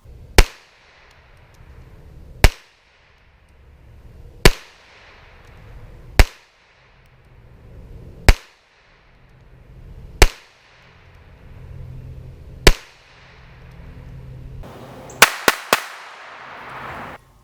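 Gunshots from an Intratec Protec-25 .25 auto pistol fired at about 7 yards, seven sharp single reports spaced roughly two seconds apart, then a quick cluster of three shots near the end, with no talking.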